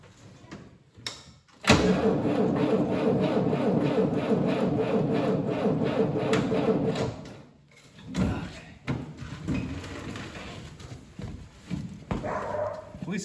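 A tractor engine cranks over on a bitterly cold day: a steady, loud churning with a rapid pulsing rhythm for several seconds, then it stops, followed by scattered knocks and handling noises nearby.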